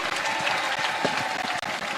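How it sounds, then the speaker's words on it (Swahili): A crowd at a political rally in Bondo, Kenya bursts into dense, sustained applause for the governor, steady and loud throughout with a brief dip near the end. "Makofi kwa gavana wetu."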